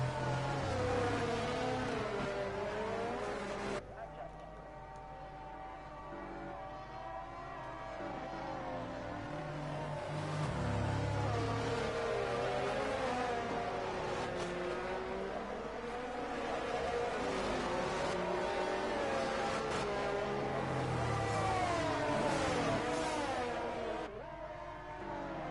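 F1 22 video game racing cars run behind the safety car at the Azerbaijan Grand Prix, a steady whining engine drone with gear-shift pitch changes and rising revs, continuous and fairly close throughout.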